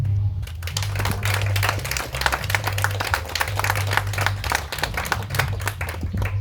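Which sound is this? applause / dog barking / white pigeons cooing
applause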